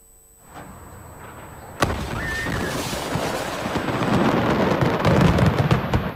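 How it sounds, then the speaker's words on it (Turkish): Fireworks exploding like bombs, a sharp blast followed by dense crackling and booming that builds louder, outdoors with no talk. "Havai fişekler bomba gibi patladı."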